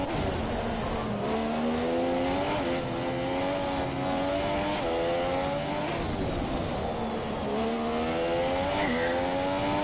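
A Williams Formula 1 car's engine screams on board in a racing video game at Abu Dhabi, loud and continuous, its pitch rising and falling through repeated gear shifts as the car accelerates and brakes through corners.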